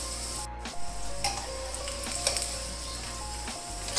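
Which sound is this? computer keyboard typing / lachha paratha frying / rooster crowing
lachha paratha frying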